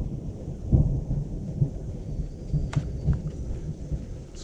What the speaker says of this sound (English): Some nice thunderstorms in the background.